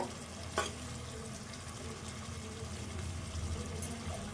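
Ingredients for a Telangana-style raw fish curry frying in a pan, giving a low, steady sizzle with faint stirring scrapes and one sharper clink, close and quiet throughout.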